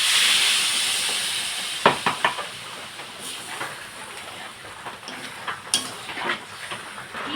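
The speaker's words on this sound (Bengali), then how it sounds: "জল দিয়ে দিচ্ছি।" Water poured into a pan of hot potatoes cooked with spices sets off a loud sizzling hiss that starts strong and slowly settles, with a few sharp pops and crackles on top.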